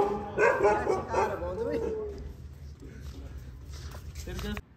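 A dog barks near a group of schoolboys outdoors, a few quick yips under lively talk, with a sharper burst near the end.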